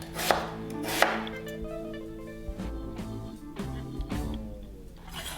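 A knife slices radish on a cutting board for a spicy blue crab stew, two sharp loud chops early, then softer irregular cuts with a ringing board tone, no talk.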